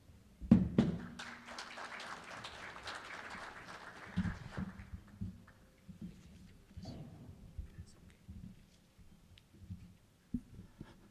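Audience applause in a convention hall at the 2008 MPAC Convention as the first presenter is invited up. A broad wash of clapping swells for about four seconds, then thins out into scattered claps and faint room noise.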